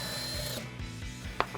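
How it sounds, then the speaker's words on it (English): A ratchet or socket wrench with an extension works the 10mm screws on top of a 2007-2013 GMC Sierra 1500 factory-style headlight: a close, brief mechanical whir, then a single sharp click near the end. "Now we'll remove the 2 10mm screws up top."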